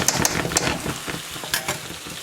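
Spoon stirring roasted mutton curry (rara gosht) with mince and garam masala in a pot, a string of soft scraping strokes with a light sizzle under them, close and fairly quiet.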